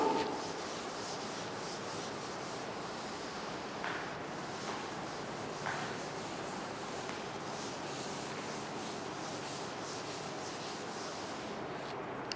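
Steady, even rubbing across a board fills the whole stretch at a constant level, with a few faint brief scrapes along the way and no talking.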